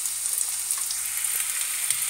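Onion dropped into hot oil already holding garlic and mustard seeds, giving a steady close sizzle and fry with faint crackle throughout, no voices.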